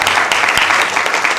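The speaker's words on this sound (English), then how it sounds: "You guys can clap if you want for your teachers." Council chamber audience in Sacramento applauds for three teachers, a short steady wash of clapping at close range with no talk over it.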